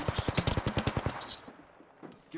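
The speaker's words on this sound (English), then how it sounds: "Getting shot at." Rapid automatic gunfire in the video game Apex Legends, a loud, steady string of about a dozen close shots, followed by a quieter pause and one more faint burst.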